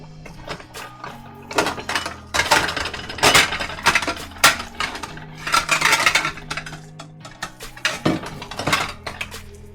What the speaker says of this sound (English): this metal pan is super hot. It's starting to burn a bit, so I'm gonna go ahead and take it off